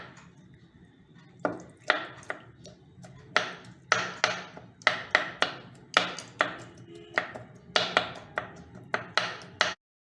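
Ice apple (nungu palm fruit) being chopped finely with a knife, about fifteen sharp close chops in a steady, slightly uneven rhythm, with no talking.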